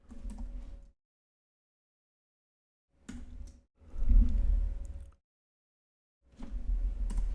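Someone types code on a computer keyboard in three close, rattling bursts of keystrokes, separated by silent pauses of a few seconds.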